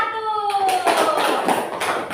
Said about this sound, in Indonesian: sekali lagi beri tepuk tangan untuk kelompok 1